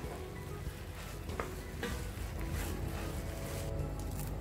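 Kuska rice is stirred in a pan after lemon juice goes in, giving a continuous low sizzle with wet scraping and a few clicks of the spoon against the pan. It is close and steady, with no voices.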